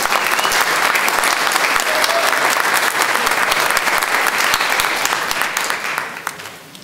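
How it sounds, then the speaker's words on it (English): Loud, sustained applause from a town meeting audience fills the room, a thick wash of clapping that holds steady before tapering off in the final second. "I think they need a round of applause tonight for everything that they do."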